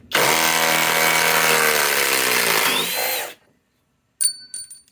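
Flex Quick Eject FX1371 compact impact wrench with a 3.5 stacked lithium battery runs in one loud, steady whine for about three seconds, then stops abruptly; after a pause come a few short clicks and handling noises.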